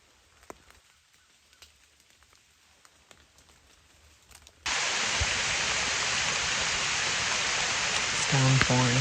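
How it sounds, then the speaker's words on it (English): Heavy rain suddenly bursts into a loud, dense, continuous hiss over an open field during hunting season, following a near-silent stretch with faint ticks; a brief voice surfaces at the end. "Downpouring."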